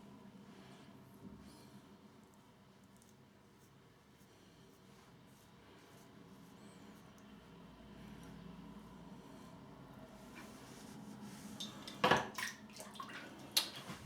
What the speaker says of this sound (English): The water's going down.